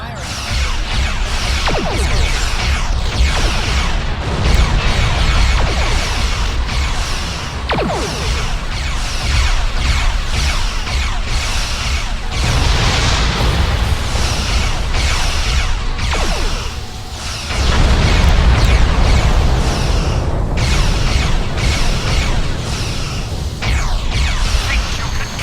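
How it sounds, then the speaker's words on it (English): Spaceship weapons firing and explosions in the Star Trek Online game, a dense, loud, continuous barrage of blasts, whooshes and crashes across the whole stretch, with brief dips before the noise surges back. "Hover your mouse over a weapon and it's firing."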